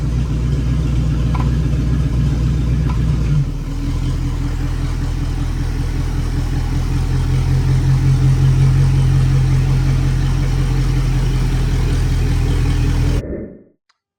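A custom trike engine runs loud and steady as the machine drives up onto a lift, its low rumble shifting briefly around the four-second mark before settling, then cutting off abruptly near the end.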